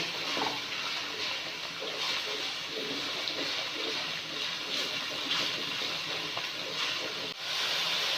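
Onion and green chillies frying in a pan for Pakistani mash daal, a soft, steady hiss and sizzle that carries on evenly throughout with no talk.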